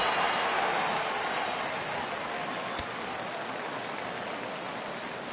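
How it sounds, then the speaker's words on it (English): Baseball crowd cheers and applauds as a steady, loud roar of clapping and voices that slowly eases off, with no other prominent sounds. "Crowd gets up for the 3-2."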